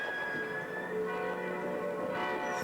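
Several German church bells in Hamburg ring together, blending into a continuous shimmering drone of overlapping tones that sustains evenly throughout.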